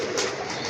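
A pair of pigeons cooing in a loft, a brief close, steady murmuring coo with constant background.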